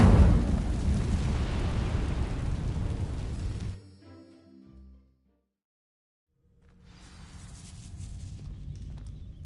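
A burst of fire from an Incendio spell sets dry vines alight in a video game, a loud roaring crackle that runs for several seconds, cuts off into silence, then swells back with a softer rushing flare.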